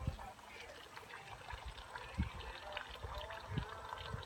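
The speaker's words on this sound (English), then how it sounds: "That water you're hearing is from this fountain that I've got here." Water trickles steadily from a garden fountain outdoors on a summer estate, a soft continuous wash with a couple of low thumps, fairly quiet and with no voices.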